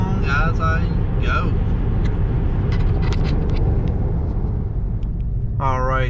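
A car rumbles steadily along a highway between New Mexico and Oklahoma, its low road and engine drone constant and close, with a voice speaking briefly at the start and end.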